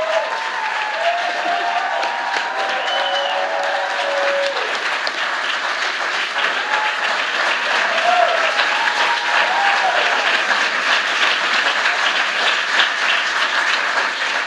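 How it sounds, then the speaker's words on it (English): An audience applauds steadily at a political event, a dense and continuous wash of clapping with a few voices calling out over it. "I'm gonna close my eyes and pretend you're clapping for me."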